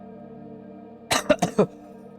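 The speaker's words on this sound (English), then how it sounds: "Forgive me for the coughs, I got pneumonia." Four quick, loud coughs from someone with pneumonia, bunched close together after a quiet hum, near and dry.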